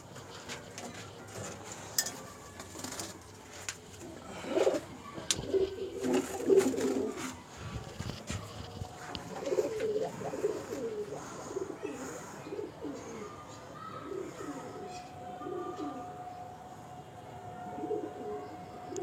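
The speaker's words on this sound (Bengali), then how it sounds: "আমি এক করে ছাড়ছি পায়রাগুলোকে" Andhra pigeons coo in soft, repeated bursts as they are released one at a time, with occasional close clattering and light rustling in between.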